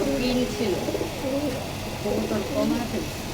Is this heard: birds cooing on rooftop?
yes